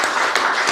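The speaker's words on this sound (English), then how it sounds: "big round of applause" An audience applauds at a public town hall meeting in Gumeracha, South Australia, with a short burst of dense, steady clapping at moderate volume and no voices over it.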